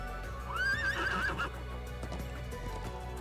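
A foal in Trails of Cold Steel 2 gives one clear, rising-and-falling whinny in the first half, heard over a steady game background hum with faint clip-clop-like knocks afterward.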